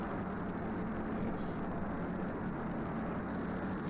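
A heavy cargo aircraft called the Bear drones steadily in flight in Kerbal Space Program, a dense, unbroken engine roar with a faint high whine throughout.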